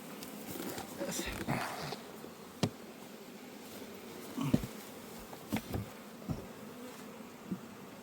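Honeybees buzz around an open hive, a faint continuous drone broken by brief knocks and crunching handling noises from close by.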